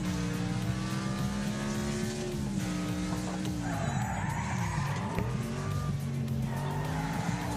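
Race cars in a racing video game roar and screech with tire squeal and skidding as one slams into the wall, engine drone loud and continuous throughout.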